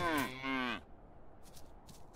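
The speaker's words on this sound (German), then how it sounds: "ob man eine Kuh hier" A single long cow moo from the video game Medieval Dynasty, loud and harmonic for under a second, then fading into quiet background ambience.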